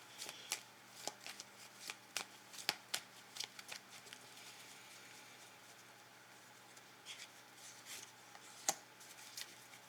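Tarot cards are shuffled and laid over one another in a quiet room, giving soft, close papery flicks and slaps in irregular bursts with pauses between.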